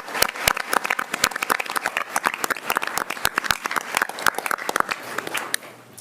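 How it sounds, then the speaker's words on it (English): Audience applause for a school team that won first place, a dense burst of clapping from a room of people at a Board of Education meeting, sustained and even before tapering off near the end. "Let's give them a big round of applause."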